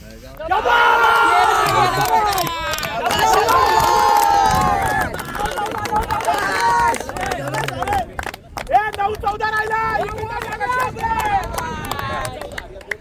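Village cricket players and supporters cheering loudly at a semi-final match in Talgaon, a sustained crowd of shouting, whooping voices that swells, dips briefly and rises again, close and energetic.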